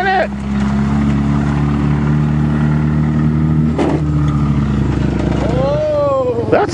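A Chrysler LeBaron convertible engine revs hard and climbs as it accelerates, a loud close droning roar with shifting pitch, a sharp knock partway through and people talking over it.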